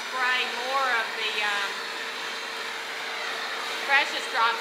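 A grooming hair dryer runs in a steady, airy rush as it blows a Papillon's coat dry, with someone talking over the continuous noise.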